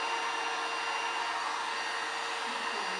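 A heat gun blows hot air onto vinyl on a tumbler, a steady, close whooshing hiss like a hair dryer that stays constant for the whole stretch, with no talking.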